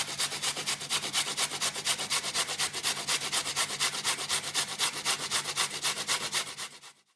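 Carrot rubbed on the fine side of a hand grater, a steady rhythmic scraping with quick even strokes throughout, close and fairly loud, then stopping at the end.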